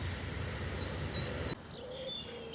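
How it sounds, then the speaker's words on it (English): Birdsong along a country lane on a spring walk near Burnham Green, with robins and great tits among the singers: repeated high chirps and whistled phrases over a steady outdoor background, close and clear throughout, alone without talk. "It's decent today because I say there's so much birdsong going on."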